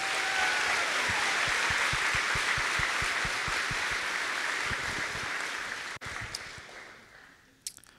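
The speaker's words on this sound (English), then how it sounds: "Let's give them a round of applause." Loud, sustained applause from a crowd at the Holy Rosary High School class of 2023 graduation, dense clapping that holds steady for several seconds, then thins and fades out toward the end.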